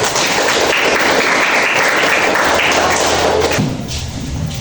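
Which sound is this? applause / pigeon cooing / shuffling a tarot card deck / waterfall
applause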